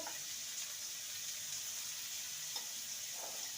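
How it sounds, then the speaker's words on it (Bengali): Potatoes fry in oil with turmeric and salt, giving a steady, soft sizzle that holds evenly throughout with faint bubbling and no voices. "আর সামান্য লবণ আলুটাকে ভেজে নেবো"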